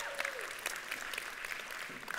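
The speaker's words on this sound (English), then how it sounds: "Yes, you can clap for that." A church congregation claps in a short burst of applause, fairly faint and distant in a large room.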